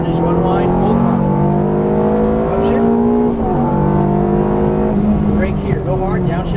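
A Ferrari F430 F1 on a racetrack accelerates at full throttle, its engine note climbing steadily and loud throughout, with a brief dip mid-run and a voice coaching the driver over it.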